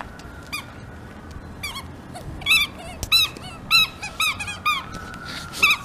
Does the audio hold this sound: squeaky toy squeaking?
yes